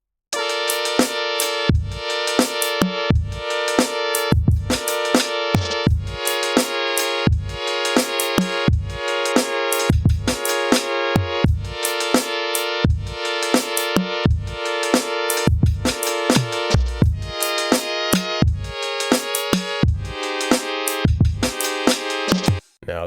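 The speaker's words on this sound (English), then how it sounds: "And these are the chords I got with the drums." Rhythmic synth chords pulse over a steady drum beat with punchy low kicks, looping evenly with no voices.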